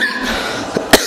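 A single person's cough, sharp and close, with a brief throat catch just before it, heard alone against steady room tone.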